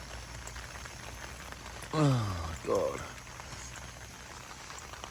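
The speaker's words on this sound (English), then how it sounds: "As it's peeing it down with rain on a Tuesday morning." Heavy rain falls steadily in a continuous hiss on a morning outdoors, with someone briefly speaking over it partway through.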